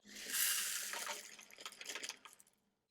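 Diamond painting drills pour into a container as a bright, hissing rattle that swells quickly, then thins into scattered ticks before stopping.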